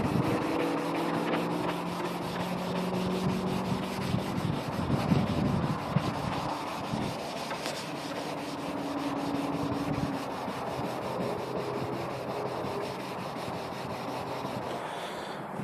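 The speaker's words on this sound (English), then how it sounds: "You want to lightly sand it so you can get rid of the shine from the lacquer." Sandpaper rubbing lightly over a lacquered wooden cabinet door, a steady scratchy back-and-forth stroke that continues alone at close range.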